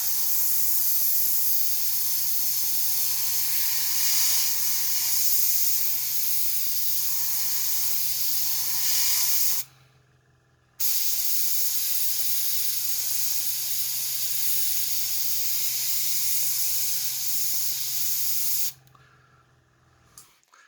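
Spray paint in Hoplite Gold hisses onto a tabletop model in two long, steady bursts close to the mic, with a brief pause between them and no talking.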